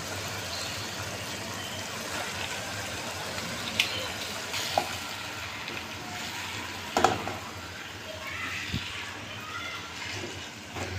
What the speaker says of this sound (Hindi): मसाला हमारा फ्राई हो गया अच्छी तरह से, तो हम आलू शामिल कर देंगे।